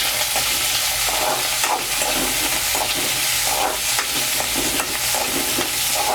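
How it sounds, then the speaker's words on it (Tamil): Onions sautéing in a pan for a Tamil kovakkai (ivy gourd) curry: a loud, steady oily sizzle close up, broken by regular scraping strokes of a spoon stirring through the pan. "வெங்காயம் போட்டுக்கலாம். வெங்காயம் நல்லா வதங்கணும்."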